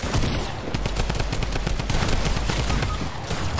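Rapid video-game gunfire crackles in tight bursts, loud and close, overlapping almost without pause for the whole stretch.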